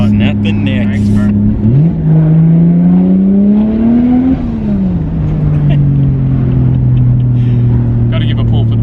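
A turbocharged 1JZ-GTE Toyota Chaser at 17 psi boost pulls hard through a gear change, its engine note climbing loud and steady, dropping at the shift, then rising again close to the microphone.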